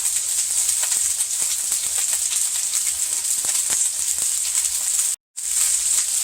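Boneless chicken thighs cooking in a pan, a loud, close, continuous sizzle and hiss with small crackling pops throughout, broken by one brief cut to silence near the end.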